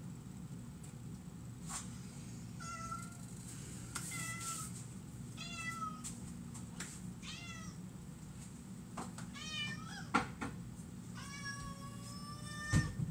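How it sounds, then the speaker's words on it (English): A cat meows repeatedly in a kitchen, a series of drawn-out, wavering cries spaced a second or two apart over a low background hum, fairly faint overall. "You hear this crazy cat?"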